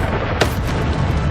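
A fiery Incendio spell cast in the video game Hogwarts Legacy bursts out as a short, loud whoosh and boom, then rumbling crackle that fades over about a second.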